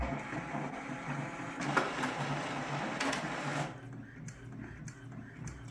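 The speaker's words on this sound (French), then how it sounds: "l'impression est un petit peu plus longue que ce que l'imprimante fait d'habitude, puisque là, il nous sort un papier de vérification" An inkjet printer that has been printing with vertical lines runs a test page, a close mechanical whirring and clattering broken by sharp clicks, then dropping to a quieter hum near the end.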